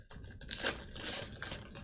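Soft, quick clatter of typing on a computer keyboard, faint and close, a few brief bursts of keystrokes with no voice.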